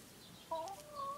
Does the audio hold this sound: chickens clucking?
yes